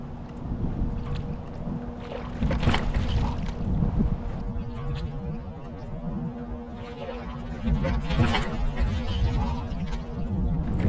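Wind gusting across open water while bass fishing from a boat in Florida, a steady loud rushing buffet with microphone rumble throughout and hull and gear knocks mixed in.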